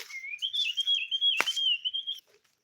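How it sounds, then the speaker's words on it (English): One bird sings a long, wavering whistle in a village forest in the evening. The note is clear and close, broken by a sharp click midway, and then the song stops. "Can you hear the sounds of the birds?"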